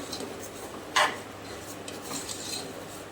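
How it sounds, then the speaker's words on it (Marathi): A spoon works thick semolina porridge in ghee with crushed cashews around a pan. A soft continuous rubbing runs throughout, with one sharper metal clack about a third of the way in. It is close and moderately quiet. "आता याला हे मिश्रण मिक्स करूया."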